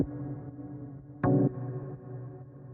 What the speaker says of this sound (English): The next sound and the last synth that we have here is a stab, which sounds like this.